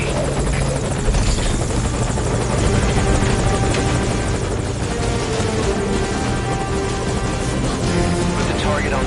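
A helicopter in Metal Gear Solid V: Ground Zeroes beats loudly and steadily close by, its rotor chop continuous throughout with a few faint voices mixed under the roar.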